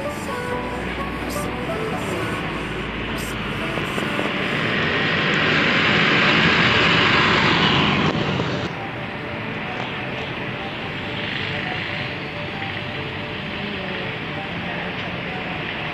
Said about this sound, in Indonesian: Dari kejauhan ada Haryanto HR157 Bulo Dewo, ganteng banget bisnya